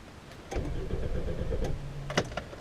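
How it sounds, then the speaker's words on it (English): The starter of a 2006 VW Jetta cranks its engine for about two seconds without it catching, with a steady whirring drone and a few sharp clicks near the end. "and it fails to start. It starts after a while,"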